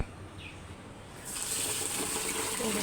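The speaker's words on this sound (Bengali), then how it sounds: "চালটা ধুয়ে দিচ্ছে" Rice is rinsed in a pot while water runs from a tap, a soft splashing that swells into a steady, louder gush partway through, close and without talk.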